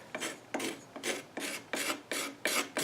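A hand file rasps against a wooden table leg in steady back-and-forth strokes. About seven loud, evenly spaced scraping passes sound up close, with nothing else heard.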